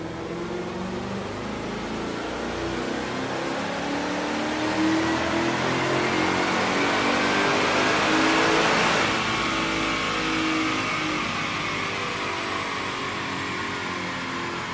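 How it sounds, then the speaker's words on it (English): A 2015 Ford Mustang GT with a Roush supercharger runs on a dyno, its engine roaring in a long, loud, sustained rising rev that peaks and then holds before winding down, with no talk over it. "today we have a 2015 Mustang GT with a Roush Supercharger up on the dyno"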